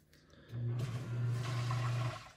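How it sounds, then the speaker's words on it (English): A basement sump pump kicks on, a low steady hum and rushing water roar that rises within half a second and holds for over a second before cutting off, moderately faint and heard alone. "as the sump pump goes up and just kind of ruins the moment"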